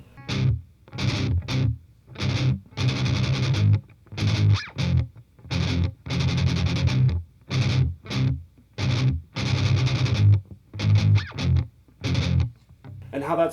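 Heavily distorted electric guitar chugging the verse riff of a song, played in tight rhythmic bursts with short muted gaps, loud and close.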